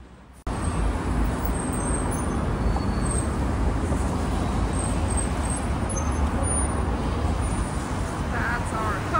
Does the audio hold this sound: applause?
no